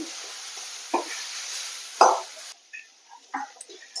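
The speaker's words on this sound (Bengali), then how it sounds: "এবার এই সব কিছু মশলাকে আলু আর পটলের সঙ্গে ভালো করে নেমে ফেলে তিন চার মিনিট কষাবো" Spices sauté with potato and pointed gourd in a pan: a soft sizzle fades partway through, while a few distinct spatula scrapes and stirring knocks sound close by, with no talk.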